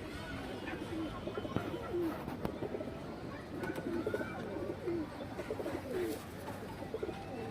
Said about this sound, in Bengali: খুব সুন্দর একটা খরা গলানোর কবুতর, সাইজও বড় আছে